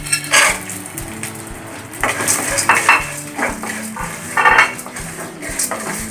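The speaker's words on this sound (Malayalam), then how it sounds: "നമുക്കിതിലേക്ക് മുളക് ഇട്ട് കൊടുക്കാം ഈ കപ്പലണ്ടി അതിലിട്ട് കൊടുക്കാം" Dried red chilies and peanuts fry in a pan alongside chana dal and urad dal for lemon rice, with a steady sizzle broken by repeated clanks and scrapes of a metal spoon against the pan.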